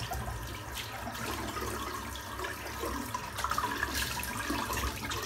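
Water splashing and running while a face is rinsed after a shave, a continuous close wash of tap flow with scattered splashes and a few louder slaps toward the end.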